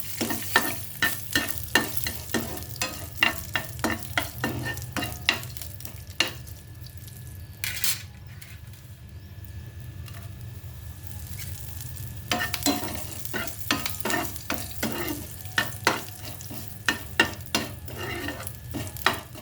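Dried red chili fries in a pan of oil for a Telugu chickpea chaat, a steady soft sizzle under repeated sharp clinks and scrapes of a spoon stirring against the pan, with a quieter stretch in the middle.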